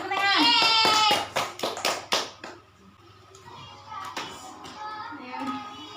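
Children in a third-grade Islamic primary school classroom in Indonesia clap their hands. A voice comes first, then a quick burst of separate sharp claps, followed by quieter chatter and scattered taps.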